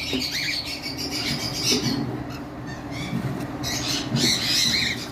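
Albino cockatiels and lovebirds on a veranda squawking in loud repeated shrill bursts with softer chirps, over a steady low background rumble.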